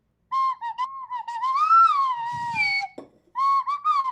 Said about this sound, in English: That's a full-on slide whistle, right?